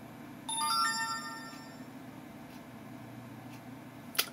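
A Google Nexus One phone plays its incoming text message notification, a short bright chime of ringing tones that fades out, followed by a quiet hum and a brief click near the end.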